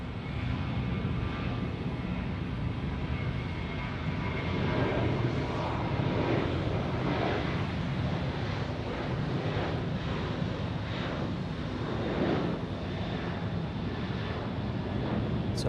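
An airliner taking off at Tampa International Airport, a loud sustained jet engine roar that swells and holds for a long stretch, with some wind buffeting, no talk.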